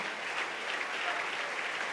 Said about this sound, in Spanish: Dele ese aplauso si es para el Señor